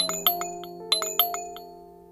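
A doorbell is pressed, giving a short series of bright, ringing chimes with sharp strikes that decay into a lingering tone, close and clear with no talk.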